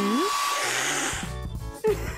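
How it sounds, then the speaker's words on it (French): A hair dryer blowing, a steady whirring airflow up close that fades and then cuts in and out alongside brief tonal squeaks and clatter. "Un sèche-cheveux, ça tombe bien."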